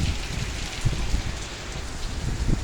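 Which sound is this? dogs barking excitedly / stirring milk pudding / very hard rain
very hard rain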